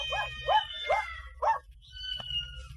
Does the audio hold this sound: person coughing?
no